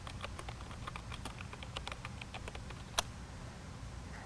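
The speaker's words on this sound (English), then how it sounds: "just go to Google and type in Panasonic drivers" Typing on a laptop keyboard while searching for Panasonic drivers for a CF-31 or CF-19 rugged laptop: quick, light, irregular key clicks close by, with one sharper tap partway through, over a faint hum.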